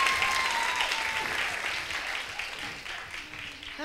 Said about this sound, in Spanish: Un aplauso para nuestra Cecilia Tait.